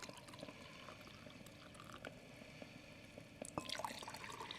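A coffee-like drink, a mocktail alternative to a cappuccino, is poured into a cup, a faint, soft liquid trickle with light drips and a small clink near the end.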